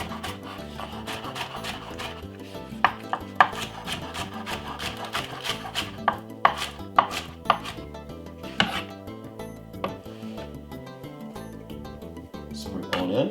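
Spring onion is chopped on a board with a series of sharp, irregular knife knocks. The cuts sound over steady background music, and a voice talks at times.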